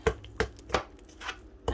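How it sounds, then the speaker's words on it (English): A big spoon mixes healthy pancake batter in a bowl with a few loud, separate knocks and scrapes against the bowl, spaced irregularly and close up, with no talk. "So I'm going to mix with this huge spoon."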